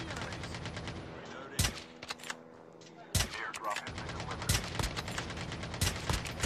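Automatic gunfire in Call of Duty Mobile, bursts of rapid shots with several loud near cracks over a steady game soundscape, spread through the scene.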